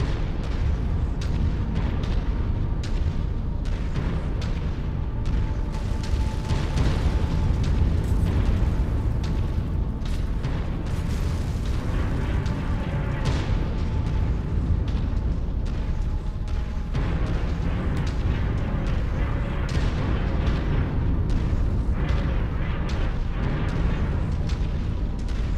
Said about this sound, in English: as a mechanic, the artillery is annoying